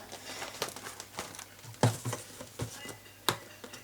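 Packaging of a Battletron gaming mouse being opened: soft crinkling and rustling of plastic and cardboard, with a few sharper snaps and tears, close and quiet.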